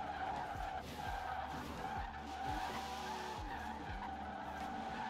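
A car drifts and skids through a corner on a snowy highway. Engine roar runs steady and loud the whole way, with repeated rising revs and tire scrub as the car holds a big slide.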